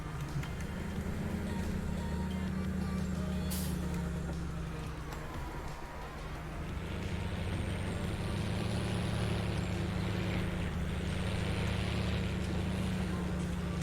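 A big tractor's engine drones steadily in Farming Simulator 19 as it drives and turns, a low continuous rumble that dips briefly and then swells again, with no talk over it.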